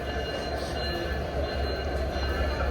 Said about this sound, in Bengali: এটা হচ্ছে কমলাপুর রেলওয়ে স্টেশন